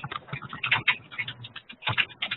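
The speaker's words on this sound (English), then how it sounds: "Sounds like maybe somebody's typing a question." Rapid, irregular clicking of keys being typed on a keyboard, close and fairly crisp, with a brief pause midway.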